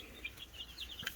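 Gold laced chick peeping among other chickens in a coop, a run of short high chirps and faint clucks, fairly quiet and close, with no talking.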